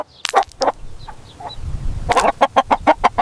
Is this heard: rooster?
yes